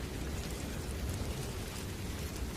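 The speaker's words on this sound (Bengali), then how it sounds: "চারিপাশে টিপ টিপ বৃষ্টি হচ্ছে" Light drizzling rain falls all around as an even, unbroken soft hiss that holds steady throughout with no other sounds.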